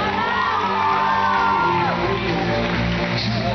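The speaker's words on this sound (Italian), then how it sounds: "un applauso!" A school crowd at a carnival costume show cheers and whoops loudly, packed close with shouts. Voices ring over the steady wall of noise.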